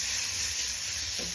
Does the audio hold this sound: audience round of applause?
no